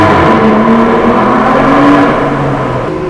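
A loud, steady Aston Martin Vanquish engine drones inside a tunnel in Lyon, heard from within the cabin, its pitch rising and falling slightly with throttle while road roar fills the background, with no talking.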